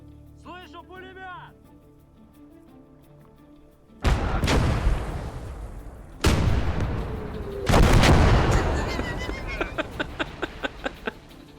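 A 122 mm gun in a video game fires three heavy, booming shots a couple of seconds apart, each followed by a long rumbling decay, then a rapid series of lighter cracks.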